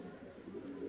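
A Rampuri Teddy pigeon coos close by, a soft low throaty burbling that rolls on continuously through the moment.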